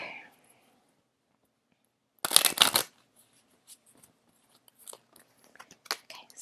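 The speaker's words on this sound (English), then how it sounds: "Now let's pull one love card for you guys from Adoring Virtue deck." A tarot deck is shuffled up close in a loud, quick riffle burst of crisp card snaps, followed by sparse lighter clicks and card taps; a brief voice opens the moment.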